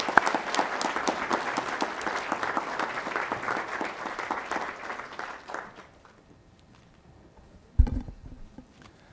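A graduation audience breaks into dense, sustained applause that fills the hall for about six seconds, then fades away into quiet room tone, with a single sharp knock or bump afterward.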